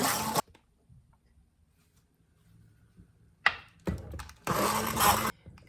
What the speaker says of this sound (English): I'm just gonna take the blender again. I like that better. I think it should make it smoother.